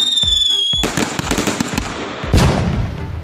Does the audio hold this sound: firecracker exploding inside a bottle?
yes